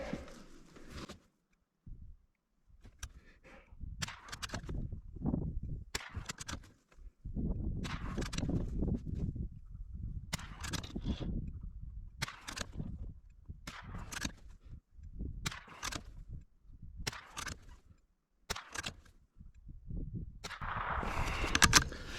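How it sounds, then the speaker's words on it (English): A Ruger American rifle fires about ten high-velocity .22LR rounds outdoors, sharp cracks spaced a second or two apart at a steady pace, with no talk between shots. "10 rounds out of the Ruger American."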